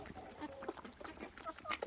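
Hungry chickens and other farm birds feed from the ground, giving soft, scattered clucks and short calls close by over a busy rustling background, with no talk.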